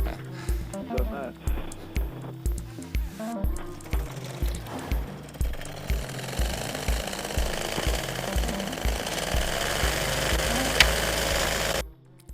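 A two-stroke paramotor engine running rough, loud and close, firing in a lumpy uneven rhythm that rises into a steadier buzz before cutting out abruptly as it stalls; a voice talks over it.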